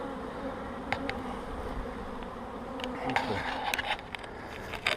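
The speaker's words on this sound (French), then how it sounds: "Normalement, ces abeilles-là vont rejoindre la ruche." Honey bees fly toward their hive in spring, a dense continuous buzzing close by, with individual bees whirring louder as they pass near.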